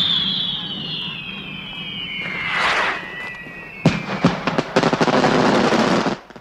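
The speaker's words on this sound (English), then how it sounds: "Fireworks. Explosives." Fireworks go off outdoors at night: a whistling rocket streaks up, a burst follows, then a loud, rapid crackle of firecracker-like pops continues for a couple of seconds before stopping.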